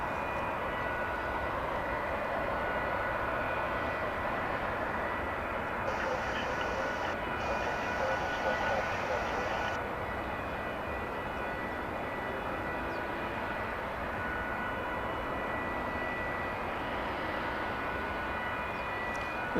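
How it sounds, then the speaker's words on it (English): A jet airliner approaches DFW airport about two miles out, a steady loud engine roar with a broadband rumble that holds throughout, heard outdoors from a distance without speech. "that plane is about 2 miles away from us right now"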